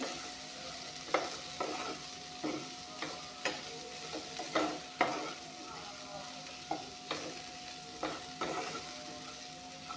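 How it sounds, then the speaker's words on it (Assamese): Raw jackfruit curry, seasoned with salt, is fried and stirred in a pan: a quiet, steady sizzle is broken by regular scraping strokes of the spatula, roughly one every second, close by. "এতিয়া এইখিনি অলপমান ভাজি ল'ম।"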